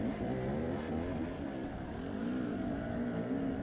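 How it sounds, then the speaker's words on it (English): Off-road motorbike in a hard enduro race in Abetone, its engine revving and droning continuously at close range, pitch rising and falling steadily throughout. "what a place to go and race a motorbike"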